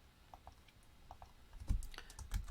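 A computer keyboard is typed on in a few soft, scattered keystrokes, faint at first and then a brief quicker burst of clacks.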